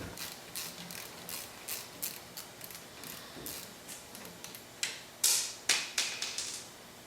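A ratchet clicks in quick uneven bursts, close and fairly quiet, while a 12mm speed sensor bolt is removed from a Toyota 4WD closed-knuckle front axle during a rebuild, with occasional metallic knocks.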